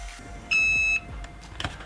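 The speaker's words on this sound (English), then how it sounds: "Hit the green button to start my timer" A Cricut EasyPress heat press gives one sustained electronic beep lasting about half a second as its timer starts, followed by faint handling clicks and quiet room noise.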